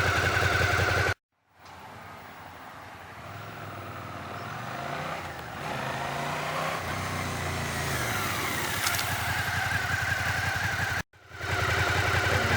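A motorcycle engine hums steadily during a licence exam braking exercise, its pitch rising and falling gently as the bike moves, then settling; brief cuts split the recording.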